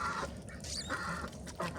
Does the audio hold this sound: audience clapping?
no